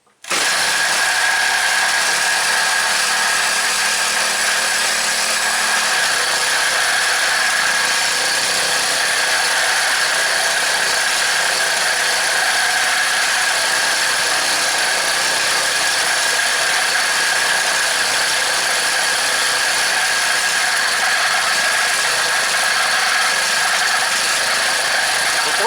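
A small Craftsman 4-cycle mini cultivator engine, recently fitted with a new carburetor, runs steadily for the whole stretch, a loud, continuous buzzing drone held just above idle with a faint squeak and no clear pauses.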